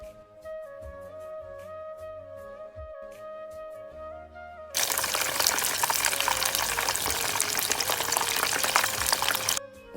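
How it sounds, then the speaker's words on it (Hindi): Chicken fillet fries in oil for a crispy chicken burger; after a stretch of tonal background sound, a strong, dense sizzle suddenly bursts in midway, holds steadily for about five seconds, then cuts off. "अब मैं चिकन फिले को फ्राई कर रही हूँ"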